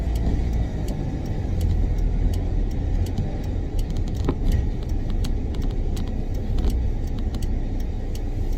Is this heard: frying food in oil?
no